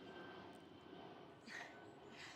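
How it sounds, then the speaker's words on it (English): An airplane passes overhead in Bangkok, a faint, steady engine drone heard from a distance throughout. "oh, sorry about the plane."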